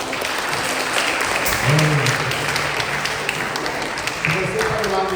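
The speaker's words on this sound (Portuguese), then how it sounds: "E as palmas ao Senhor." A church congregation at a Baptist Sunday service breaks into steady applause, a dense wash of many hands clapping together with voices mixed in throughout.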